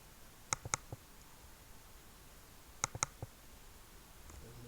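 Computer mouse and keyboard clicks during a copy-paste: two tight clusters of three crisp clicks each, a couple of seconds apart, close and distinct against quiet background.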